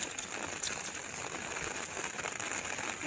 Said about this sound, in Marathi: पावसानं थांबायचं काम काही घेतलंच नाही अजिबात